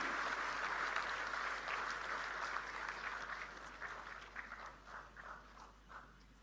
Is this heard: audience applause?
yes